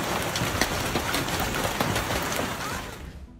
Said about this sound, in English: In Spain, hail also smashed car windshields.